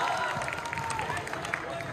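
A crowd claps and cheers during performances at a university batch annual dinner, busy applause mixed with hubbub while a voice speaks over it throughout.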